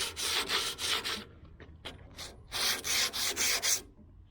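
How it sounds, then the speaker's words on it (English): Scrap sandpaper rubbed by hand along the door jamb edges of a 1968 Chevelle Nomad under restoration, giving quick back-and-forth scratchy strokes in bursts with short pauses, close and moderately loud. "And that's what you use the scrap sandpaper for."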